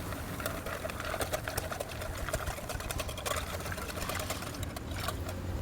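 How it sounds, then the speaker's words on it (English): Wire whisk beating a carne asada marinade of American beer and El Mexicano seasoning in a bowl, a steady fast clattering rattle running throughout, close and fairly quiet with no talking. "We'll just whisk all this together."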